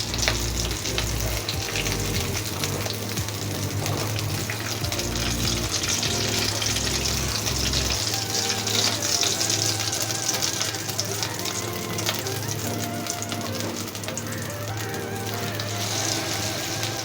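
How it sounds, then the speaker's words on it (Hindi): Egg-stuffed potato koftas fry in hot oil with a steady, loud, close sizzle that runs unbroken throughout, under a low hum. "अब इसी तरह सारे फ्राई कर रहे"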